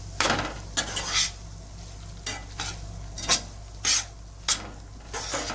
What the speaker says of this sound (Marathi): आपण त्याच्यामध्ये एक वाटी बारीक रवा टाकूया रवा चांगलं मिक्स करून घेऊ तेलात